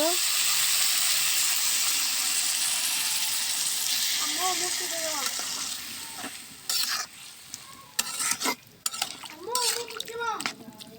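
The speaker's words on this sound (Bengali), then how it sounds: "এখন আমি সামান্য একটু পানি দিয়ে দিব" Water splashes into a hot pan of frying potato, eggplant and dried fish, setting off a loud hissing sizzle that gradually dies down. A voice then talks over the fading bubbling and stirring noises.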